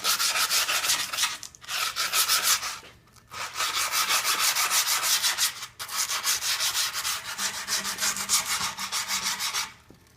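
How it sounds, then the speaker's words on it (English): Folded spare grip tape rubbed along the edges of a wooden skateboard deck, steady rhythmic rasping strokes in four long close bursts separated by short pauses. "You're actually just going to lightly sand the edges of your board."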